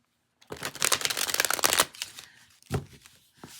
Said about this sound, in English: This needs one more shuffle.